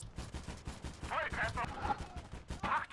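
A 20mm flak gun fires in the WWII strategy game Gates of Hell: Ostfront during a defence against an armoured assault, with rapid, evenly spaced shots over a busy battle din.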